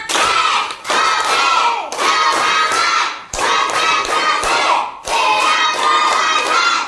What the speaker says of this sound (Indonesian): coba tepuk kelas lima.